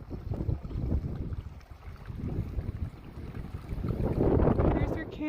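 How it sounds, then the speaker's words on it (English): Strong gusts buffet a tent at a camp on the Pacific Crest Trail, with a continuous roar and fabric flapping that swell and ease in waves, loud and close to the microphone. "the wind is just insane and blowing our tent around"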